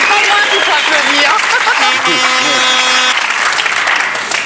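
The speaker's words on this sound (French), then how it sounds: "On applaudit Evelyne." A television talk-show studio audience bursts into loud applause, with voices calling out or cheering over the clapping throughout the short burst.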